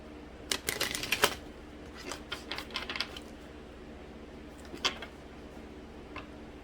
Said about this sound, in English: I did already shuffle these, but I am going to shuffle again